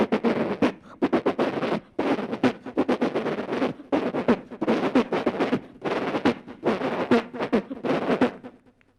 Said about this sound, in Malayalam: മാലപ്പടക്കത്തിന് തീ കൊടുത്താൻ പോവാ